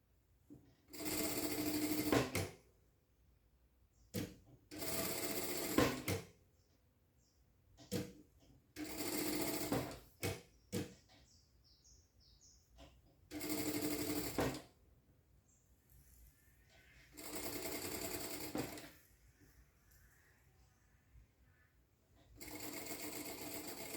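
A quiet sewing machine stitches bias binding onto a baby bib in about eight short bursts of rapid whirring, separated by near-silent pauses.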